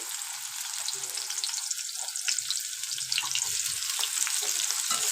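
Chopped onion frying in a generous amount of oil, a dense steady sizzle with crackling spits that grows slightly louder over the few seconds, no voices.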